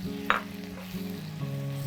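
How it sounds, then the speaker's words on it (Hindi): Medium-sized onion frying in hot oil for an Indian potato dish, a soft steady sizzle with a brief stirring clatter, no talk. "फिर इसके साथ हम ये अनियन डालेंगे। इसमें एक मीडियम साइज़ का अनियन है।"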